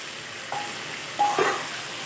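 Chicken kosha is sautéed in a pan with a faint, even background sizzle, broken by a couple of light metallic clinks from a utensil against the pan.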